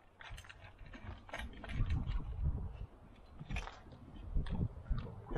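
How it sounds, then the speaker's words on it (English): A Dewalt rotary laser level self-levelling on its mount, giving close, small mechanical whirring and ratcheting clicks that rise and fall in short bursts as the mechanism adjusts and begins to turn. "Hit the on button and it's gonna self-level itself. It won't spin if it's not level. As soon as it's level, it starts spinning."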